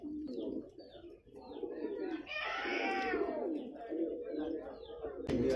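Pigeons at the Jama Masjid bird market in Delhi give a rolling, throaty coo up close, with more soft cooing and chirps around it and a murmur of market voices behind.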